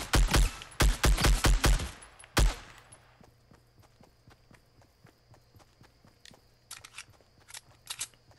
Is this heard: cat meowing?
no